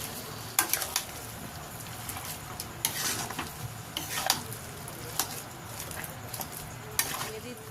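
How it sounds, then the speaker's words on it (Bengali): Potatoes are stirred with spices in a pan, with a soft continuous sizzle under repeated scraping and clinking of a utensil against the metal, close up and fairly quiet. "দেখুন এটা নাড়াচাড়া করে মশলার সাথে ভালো করে মিশিয়ে নেব।"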